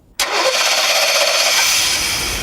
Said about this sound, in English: The engine's idling.